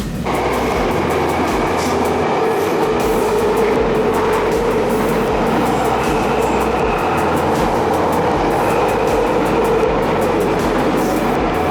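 Steady loud rumble of a London Underground train in motion toward Brixton, with rhythmic clicking of wheels over track joints and a rising whine, heard from inside a carriage.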